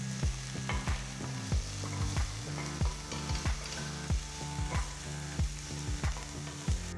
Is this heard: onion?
yes